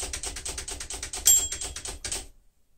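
A 1940 Royal Signet typewriter is typed in a quick, even burst of key strikes. Partway through, its bell gives a single bright ding, and a few more clacks follow before the sound stops abruptly and silence remains.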